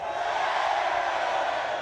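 A large crowd of Manchester City supporters roars and cheers at the treble trophy parade, a dense, loud, continuous wall of voices with no breaks.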